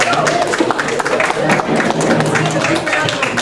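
Audience applause for contestants at an event, a dense steady wash of many hands clapping at close range, filling the whole moment with some crowd noise mixed in.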